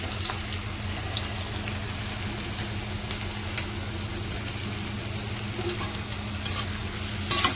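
Onions frying in hot oil for birista, a continuous dense sizzle with occasional stirring scrapes, close and steady, no voices.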